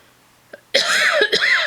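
A small throat sound, then a burst of harsh, close coughing that continues for about a second.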